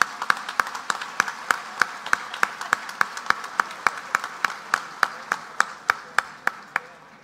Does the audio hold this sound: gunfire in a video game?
no